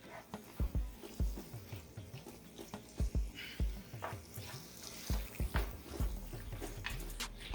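A spoon stirs ground turkey taco mixture with tomato juice in a skillet, giving a soft sizzle under repeated scraping and clinking strokes against the pan, close and moderately quiet.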